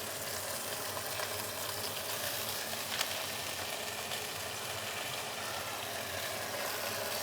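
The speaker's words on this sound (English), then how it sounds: "Let's put in some bacon." Bacon frying in a pan for an English breakfast: a steady, broad sizzle and crackle holds evenly throughout at moderate loudness, with no voices over it.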